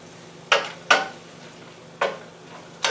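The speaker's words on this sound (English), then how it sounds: "Mix it about and let this keep cooking." Onions cooking down in a pot for French onion soup are stirred with a spoon in four separate scrapes, each with a short rustle, over a faint background sizzle.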